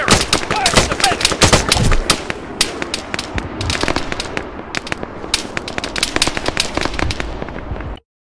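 Gunfire in the military video game ARMA 3, sharp loud cracks in rapid bursts and scattered single shots throughout, close and dense, cutting off abruptly at the end, with shouted voices mixed in.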